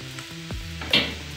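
Hot oil sizzling in a pot while cooking beef biryani, a low steady hiss with a sharper burst of sizzle near the end, fairly close.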